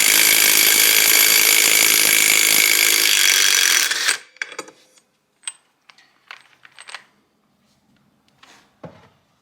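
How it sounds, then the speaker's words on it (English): Electric impact wrench removing the master clutch nut on a 2012 Kawasaki KX250F engine held with a clutch holding tool, roaring loud and steady for about four seconds, then stopping, followed by a few short metallic clicks and clatters of parts. "usually an electric impact will take it off"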